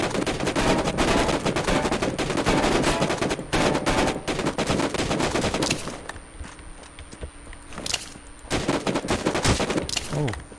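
Unsilenced gunfire in a solo shooter video game comes as loud, rapid bursts of shots. The shooting eases to scattered pops in a brief lull, then resumes in heavy volleys.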